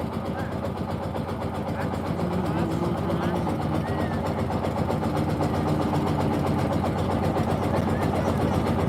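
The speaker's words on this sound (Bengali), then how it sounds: "নিস্তব্ধ নিরবতা জাস্ট ইঞ্জিন বোর্ডের আওয়াজ আর কোনো হর্ন নাই" A boat's engine drones steadily and loudly on the Balu river. The low mechanical hum continues throughout with no horns.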